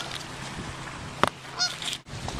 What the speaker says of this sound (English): Geese does not like that I'm here.